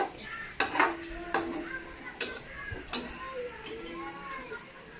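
Food being stirred in a pan at home, with utensil clinks and scraping knocks against the pot recurring every second or so, close by, under intermittent talk and a faint sizzle.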